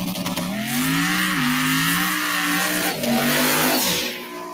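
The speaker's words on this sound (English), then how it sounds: "That was a long burnout." A street car holding a long tire burnout, its engine revving hard and steadily with rising and falling pitch under loud broadband tire roar, close and sustained before fading at the end.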